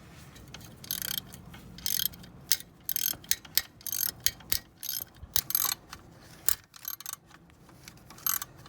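Ratcheting clicks from a wrench loosening 7/32 screws on the ignition coil of a 1996 Ford F350 with a 460 engine, coming in quick irregular bursts of close metallic ticks with short pauses between.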